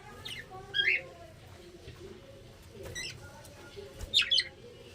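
Pet budgerigars in a home bird farm give short, bright chirps and tweets in scattered bursts, fairly faint, with low background murmur and a voice briefly under them.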